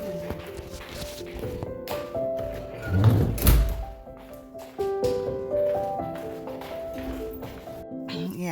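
A door being closed after cleaning a washroom, one solid thunk near the middle, close by, with a couple of lighter knocks and a voice talking around it.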